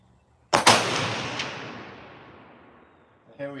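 A single sharp, loud rifle shot from a Ruger American Gen 2 Predator bolt-action rifle cracks out, then a long rolling echo decays over about three seconds before a brief voice is heard at the end.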